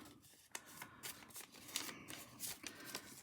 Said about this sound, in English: And I think I'm just going to fold that one over